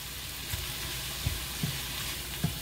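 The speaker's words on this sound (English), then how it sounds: "let's get the onions cooked down." Onions sizzle in a skillet, a soft continuous frying hiss with several faint knocks and clinks from a utensil against the pan.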